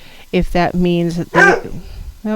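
Dogs bark a few times in the background beneath a person talking steadily throughout, the barks brief and partly masked by the voice.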